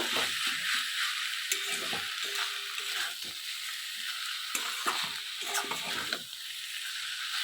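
Crushed bori lentil dumplings are stirred into greens frying in a pan, giving a soft sizzle under repeated scraping and clinking of a spatula, close by and without speech.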